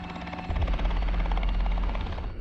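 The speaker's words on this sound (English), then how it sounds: "Hearing the helicopter is the greatest sound you can hear when you're in that" A rescue helicopter approaches during a bush emergency, its rotor throbbing as a loud, steady, close chop with deep low rumble throughout the short stretch.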